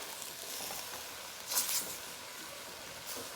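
Vegetables being stir-fried in a pan give off a steady, quiet sizzle, with a brief louder hiss and scrape around the middle as they are turned.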